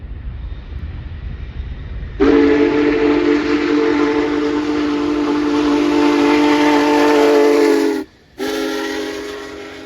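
Union Pacific 4014 Big Boy, an Alco-built 1941 4-8-8-4 steam locomotive, sounds its deep, loud steam whistle on the passenger main in Roseville Yard, held for several seconds, briefly breaking off, then resuming over low rumble.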